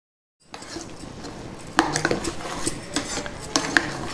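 A spoon mixes curd chutney, Perugu Pachadi, with coriander in a bowl, opening with a short silence and then giving irregular metallic clinks and scrapes against the dish. The sounds are close and sharp, and no one speaks.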